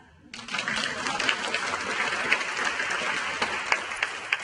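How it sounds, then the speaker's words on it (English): Applause starts abruptly and continues from a gala audience honoring a senior services organization. Dense, even clapping fills the room with a few louder individual claps standing out, and no speech over it. "You can clap."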